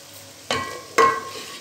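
Carrots and peas tumble into frying fenugreek in two quick additions, each a sharp rising sizzle and stir over a low steady crackle, close and alone.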